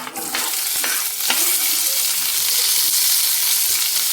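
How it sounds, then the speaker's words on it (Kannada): Onions sizzling and frying in a hot pan for an egg curry, a loud steady crackling hiss with a few stirring scrapes near the start, close up and with no talking. "ನೋಡಿ, ಈರುಳ್ಳಿ ಹಾಕ್ಕೊತಿದ್ದೀನಿ."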